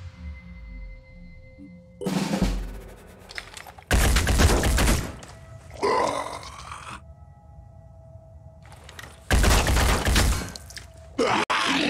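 Weapon fire in the turn-based tactics game Phoenix Point comes as several loud, heavy bursts separated by quieter gaps with tonal hum and sci-fi textures. A sharp crack sounds near the end.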